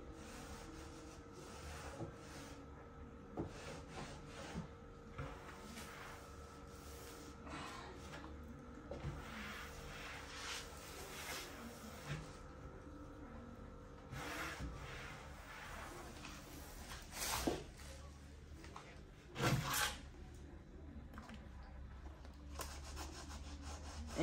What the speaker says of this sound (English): I'm using this cloth to just dust out any dirt on my stand.